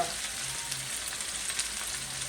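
Half a large onion frying for jerk chicken with chicken thighs, a steady soft hiss of oil across the pan, faint and continuous with no talk.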